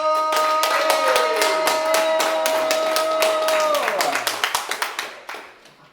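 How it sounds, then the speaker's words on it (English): An audience at a live show gives a round of applause, with loud, brisk, rhythmic clapping close by. Sustained tones sound over the clapping, then the claps thin out into a few fading single claps. "so would you please keep the round of applause going for Ruth Kettle"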